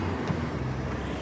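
A Ford EcoBoost car engine runs at a steady idle, a close, even low rumble with no voices over it.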